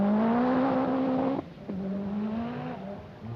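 A 1985 Lombard RAC Rally car holds a steady, droning engine note on a Welsh forest stage at Trwscoed, cutting out abruptly, picking up again at a slightly lower pitch, then fading as it moves off, with no one speaking.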